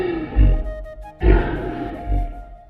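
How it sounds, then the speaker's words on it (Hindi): A lion in the jungle lets out three deep, rumbling roars in a rising-and-falling rhythm. They are loud and close, with no voices. "लगता है कोई शेर आ गया है"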